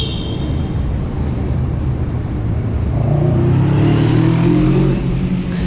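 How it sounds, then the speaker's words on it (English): A motorcycle passes close by a cyclist on a bike path, its engine rising from a steady rumble into a louder rising drone over wind and road noise, with no talking. "I was quite shocked to see a motorbike pass me"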